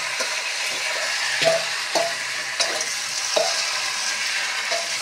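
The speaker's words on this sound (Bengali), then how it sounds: "এই যে ভাজা হয়ে গেল পেঁয়াজ, এখন সব মাংস সহ দেওয়া হয়ে যাচ্ছে।" Goat meat sizzles in a pan with fried onions and a squeeze of lemon juice, a steady frying hiss broken by periodic scraping strokes of a spoon turning the mixture, close up and without speech.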